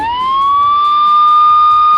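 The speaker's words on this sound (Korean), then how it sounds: "다른 방에서 경찰차 소리를 튼 거예요." A recorded police car siren plays from another room, one loud, sustained wailing tone that rises slightly and then holds steady.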